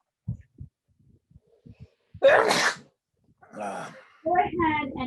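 A single loud, close sneeze bursts out in a quiet room during a seated-figure drawing class, preceded by a few soft taps and followed by people speaking.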